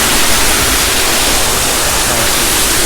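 Very loud waterfall at Canada Far & Wide in EPCOT, viewed from the front near a small wooden bridge, a dense, steady roar of rushing water filling the whole space with no break.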